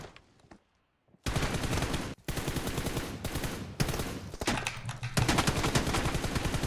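Rapid bursts of automatic gunfire in a shooting video game, loud and close, in long sustained volleys broken by brief pauses.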